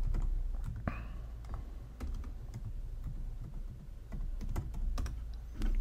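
Rapid tapping on a computer keyboard, irregular clusters of crisp key clicks and occasional heavier strokes, close up over a low background hum.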